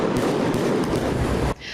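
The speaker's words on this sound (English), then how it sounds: "The noise is only fireworks." Fireworks exploding in a loud, dense burst of crackling bangs that cuts off abruptly after about a second and a half.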